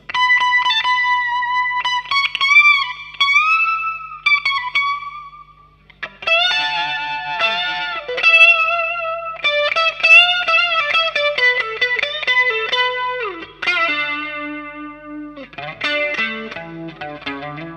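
Electric guitar playing a solo through distortion and chorus effects, with singing sustained bends, quick runs and held notes in expressive phrases, close and loud with no talk.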